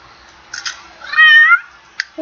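A cat meows in The Sims 3 game, a single drawn-out, rising-and-falling meow, clear and fairly loud, with short soft game sounds before and after.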